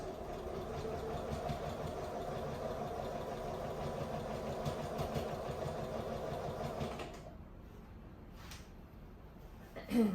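A sewing machine runs steadily, stitching binding onto a quilted project for a machine cover, its fast even whirr filling the first seven seconds before stopping, followed by a few soft handling sounds.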